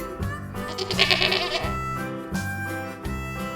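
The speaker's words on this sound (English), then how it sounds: "The goat bleats." A goat bleats loudly and close by, several wavering calls in a row with brief gaps, no talking.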